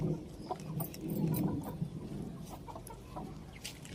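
Chickens sheltering indoors from rain cluck and murmur in low, overlapping calls, close by, over a soft steady background patter.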